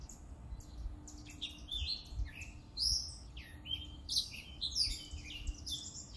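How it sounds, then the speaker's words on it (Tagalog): Several birds chirp and twitter in quick overlapping bursts, fairly faint and distant, over a low outdoor rumble. "Hindi ko na tatanto kung saan banda yung huni na yon pero may ibon dun sa dulo."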